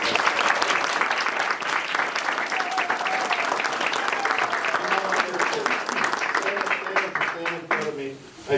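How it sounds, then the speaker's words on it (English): Loud, sustained audience applause at a children's prince and princess contest and coronation, dense clapping filling the whole stretch while voices and a faint tone carry underneath, thinning near the end. "Let's give a round of applause to all."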